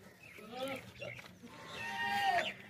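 Bleating from a healthy, fat male goat at a livestock sale, heard in a couple of short wavering calls under close-by talk.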